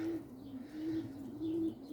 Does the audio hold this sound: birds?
yes